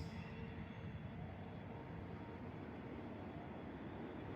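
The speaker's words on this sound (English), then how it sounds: "Do I hear another set of engines again?" A low, steady rumble of distant locomotive engines drones on continuously, faint, with no voices, near Union Railroad and Norfolk Southern tracks.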